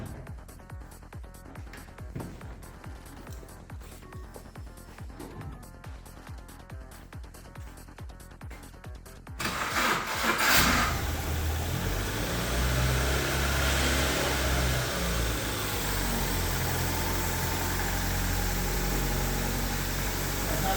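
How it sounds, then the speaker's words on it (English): A rebuilt, previously wrecked Ford Fiesta engine cranks with rapid rhythmic clicks, then catches and settles into a steady, loud idle rumble that continues to the end. "So let's start the car."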